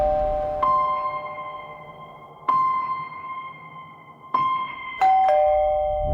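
A house doorbell chimes four times in slow succession, each ring a bright sustained tone that decays before the next, the last two coming close together, with no talk.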